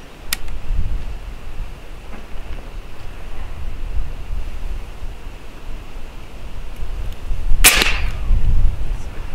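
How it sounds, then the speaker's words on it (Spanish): A single sharp crack of a .45 caliber Airforce Texan SS air rifle shot rings out outdoors against steady wind noise, with a fainter snap at the start. "vamos a ver el último disparo, a ver qué pasa"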